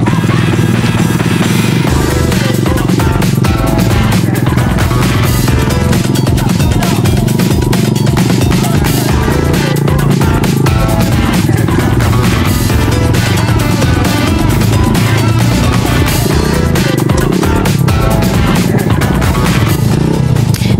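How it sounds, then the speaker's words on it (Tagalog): Habal-habal motorcycle taxi riding on a rough route in Tineg, Abra, with a loud, constant engine drone and wind buffeting throughout, clattering over the road. "sinubukan na nating sumakay sa habal-habal"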